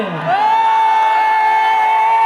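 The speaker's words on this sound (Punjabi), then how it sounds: "ਇਹਨਾਂ ਦੇ ਲਈ ਇੱਕ ਵਾਰ ਜ਼ੋਰਦਾਰ ਤਾੜੀਆਂ ਲਾ ਦਿਓ ਸਾਰੇ ਜਣੇ" An audience at a Punjabi film promotion event with Gippy Grewal and Pamma lets out a loud, sustained whooping cheer. The sound holds steadily from start to finish at close range.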